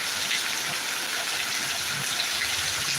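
Heavy rain pours down steadily during a thunderstorm, a dense continuous hiss and gush of water that stays loud and even throughout, with no voices.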